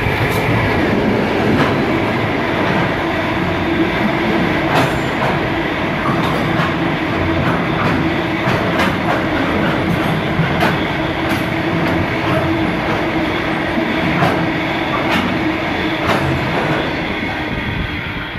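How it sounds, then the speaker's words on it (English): Cement freight train hauled by locomotive 8116 rolling through platform one at Mittagong station, a loud continuous rumble with rhythmic clickety-clack of wheels over rail joints throughout, heard close and without talk. "the cement train that was passing through platform one"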